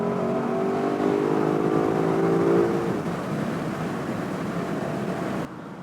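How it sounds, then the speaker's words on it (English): A 2021 Lexus LC500 Convertible accelerating hard in Sport Plus mode on a winding road, its engine rising in a loud, steady climb for about three seconds before settling into a sustained, slightly quieter roar, with no talk. "click up into Sport Plus mode, and then stab the throttle."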